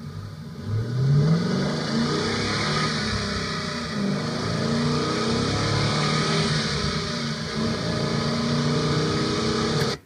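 A Mustang pinball machine's engine sound effect, recorded from the front of the cabinet, plays as a steady, loud revving engine roar with a rising pitch sweep near the start before cutting off abruptly.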